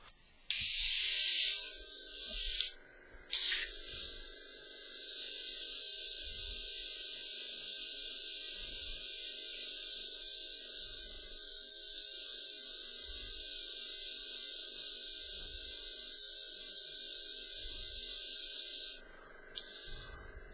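An airbrush sprays black paint in a steady, fairly quiet hiss that holds for nearly the whole stretch, with a brief break early on and a short dip near the end.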